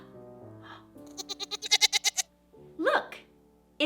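A goat bleats nearby in a quavering, pulsing call of about ten rapid wavers, with a brief voice sounding before and after it.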